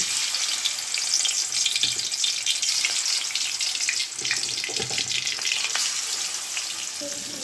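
Rohu fish pieces frying in hot oil make a dense, even sizzle with a fine crackle throughout, steady and close, easing slightly partway through.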